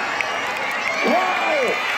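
Crowd at a village horse-riding show in rural North Bengal claps and cheers steadily, with a single voice letting out rising and falling whoops above the broad applause.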